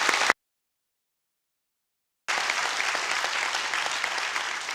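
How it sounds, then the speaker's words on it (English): Audience applause at a debate between evolution and creation, a short burst of clapping cut off by nearly two seconds of dead silence, then steady, dense clapping from the hall resuming. "We can applaud Mr. Ham's presentation."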